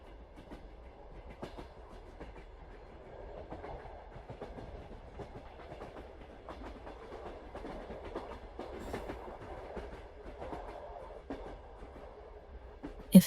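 A night train runs on rails through winter, a soft distant rumble with faint, irregular clickety-clack of wheels over track joints, quiet and steady, ending with a brief louder knock.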